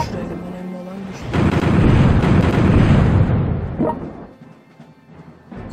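Cannon fire in the Napoleonic strategy game European War 4: Napoleon, a sustained loud rumbling barrage that swells after a second, holds for a few seconds, then fades out.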